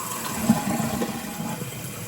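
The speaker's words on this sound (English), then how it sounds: "you just flush it again" A toilet flushes with a steady rush of water as the tank drains and refills, close and continuous, no talk over it.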